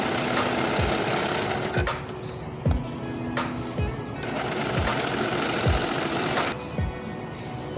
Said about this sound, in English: I'm going to sew the sleeve, and I'm going to add the binding with the serger